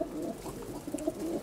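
Ancient fighting-breed pigeons at a breeder's loft give soft, low cooing in a short, faint stretch over quiet background noise, with no talk.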